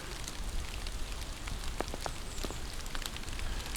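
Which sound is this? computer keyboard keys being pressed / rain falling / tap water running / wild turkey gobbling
rain falling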